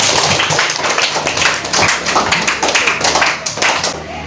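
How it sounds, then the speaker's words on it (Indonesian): A class of students claps together in a classroom, a brisk burst of uneven, close handclaps that continues for a few seconds before fading out. "Silakan berikan tepuk tangan untuk Halimatul Hafizah."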